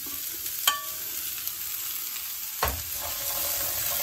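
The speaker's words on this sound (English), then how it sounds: "We're now going to add our carrots. Oh, get them all in there." Carrots tipped into a hot pan for carrot and coriander soup give a couple of sharp clattering impacts, then a steady low sizzle of frying and occasional stirring scrapes, close and without voices.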